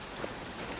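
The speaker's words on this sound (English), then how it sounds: "This rain ain't gonna do us any good." Steady rain falls in The Last of Us Part I, a dense, even hiss of drops on surfaces with no voices over it.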